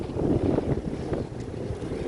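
Strong gusty wind in Istanbul, Turkey, buffets the microphone with a low, rumbling roar that surges and eases throughout, with no voices.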